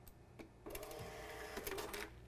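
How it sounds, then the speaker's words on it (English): A receipt printer prints a test page with a quiet, buzzing mechanical whir and short bursts of feed noise, heard alone and close up. "You'll find your receipt printer and go to Manage, and then you can print the test page."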